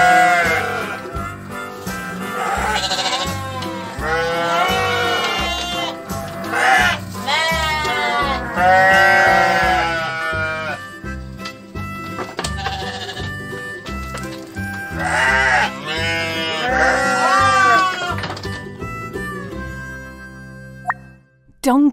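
Sheep bleat loudly and close in several drawn-out, wavering calls with short pauses between them, and a few soft knocks sound near the end.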